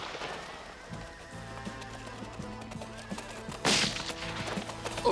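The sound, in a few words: horse neighing and hooves clip-clopping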